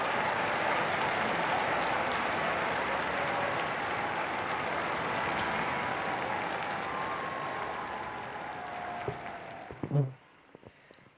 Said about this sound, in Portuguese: o Papa Francisco saúda a multidão, é muito aplaudido